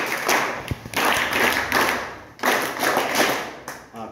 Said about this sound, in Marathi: यांच्या कौतुकासाठी सगळ्यांनी 3 वेळा टाळ्या वाजवायच्या